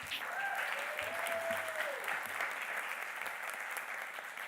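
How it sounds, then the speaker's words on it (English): Audience applause fills a hall at the 20th annual Games for Change Festival, a steady wash of many clapping hands at a fairly even level, with a faint tone drifting through. "A bit of applause for the..."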